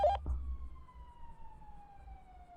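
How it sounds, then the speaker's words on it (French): A single emergency siren wails at night, a long steady tone sliding slowly downward, heard from a distance over low rumbling street noise after a brief clatter at the start. "Mais c'est dingue, ça s'arrête pas les sirènes ce soir"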